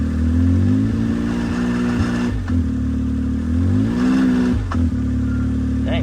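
A Can-Am X3 side-by-side engine revs steadily at moderate RPM, a loud continuous drone that rises and dips twice with brief clattering.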